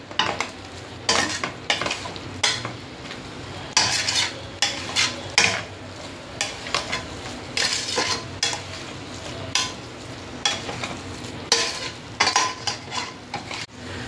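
Red chili powder, biryani masala and garam masala roast in a pan for a large batch of veg biryani, with repeated scraping stirs and bursts of sizzle in an irregular rhythm, close by and with no talking.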